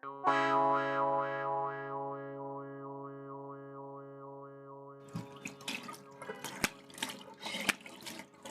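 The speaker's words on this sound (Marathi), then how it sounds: "तोंडावर पाणी मारलं पाहिजे." Water splashed onto a face at a sink in a Marathi home drama, a burst of irregular wet splashes and drips that follows a sustained wavering tone.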